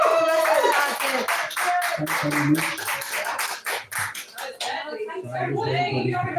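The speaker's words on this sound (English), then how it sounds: "So we want the biggest round of applause ever for AB as he's getting his stuff together." Audience applause and cheering for a performer at a live show, a burst of clapping mixed with whoops that thins out toward the end while a person keeps talking over it.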